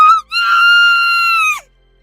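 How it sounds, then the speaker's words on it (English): A woman's loud, piercing scream serves as a story sound effect. It is briefly broken near the start, then held as one long shrill cry that cuts off abruptly, with no other sound around it. "That scream pierced through the sound of heavy rain"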